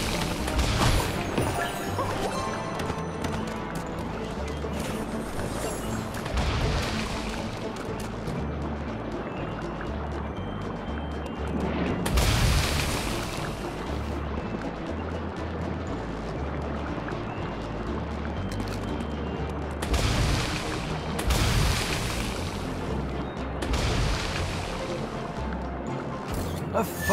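Cannons smashing in the Epic Mickey 2 video game, with repeated loud crashing bursts and splashy impacts over a steady busy game soundtrack that runs throughout.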